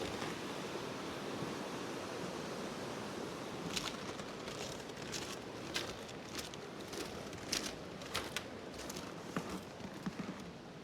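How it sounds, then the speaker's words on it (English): Waterfall at Copper Falls in winter, a steady broadband rush of falling water holding at an even level throughout, with scattered sharper crunching transients over the constant roar. "I hear waterfalls."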